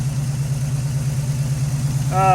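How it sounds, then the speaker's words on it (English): An Oldsmobile Cutlass engine, just restarted after fuel pump trouble, idles with a steady low hum and slight pulsing, close and continuous, with a brief voice fragment at the very end. "after many problems with the fuel pump not taking in fuel, we got it idling"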